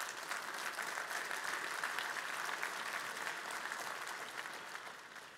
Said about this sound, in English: Thank you for the applause, by the way.